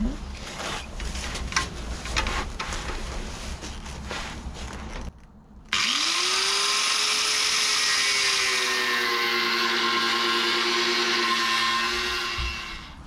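An angle grinder with a cutting disc and guard bites into the rusty inner wing of a Rover P6, starting after a brief pause with a loud, sustained high whine and rasp, preceded by clattering handling noises.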